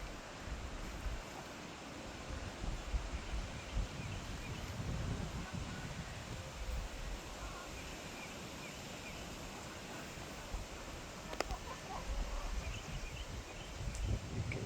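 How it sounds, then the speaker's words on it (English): Strong wind buffeting a microphone outdoors on an Oklahoma homestead garden, a steady loud rushing roar with gusty low rumble throughout and no clear speech. "Gonna be a little difficult to garden today. The wind's a little windy."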